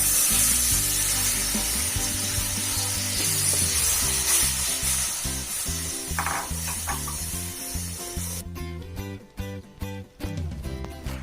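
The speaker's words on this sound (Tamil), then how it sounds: "இதை வந்து இதில் ஆட் பண்ணிட்டு நல்லா கலரிக்கிறோம்" Flour stirred into melted butter in a hot pan for a homemade wheat-flour pizza sauce, a steady scraping, clattering rhythm of spoon on metal over faint sizzling, close and continuous with no talk.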